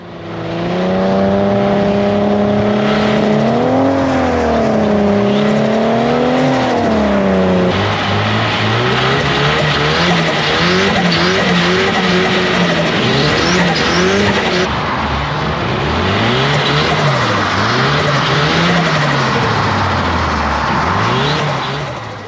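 An Ecoboost-powered BMW E36 drifts on ice, its engine loud and close as revs rise and fall in repeated sweeping waves, with continuous tire noise over the whole stretch.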